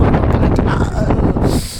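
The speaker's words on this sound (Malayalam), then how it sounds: "കാറ്റ് കാറ്റ് കാറ്റേ" Strong wind gusts across a snowy mountain off-road trail, roaring steadily and close against the microphone, then thinning into a lighter hiss near the end.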